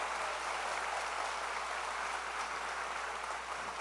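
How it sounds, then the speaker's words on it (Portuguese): A church congregation applauds, a dense, steady wash of clapping held at an even level throughout, heard from a distance with no voices over it. "Dá uma salva de palmas para Jesus"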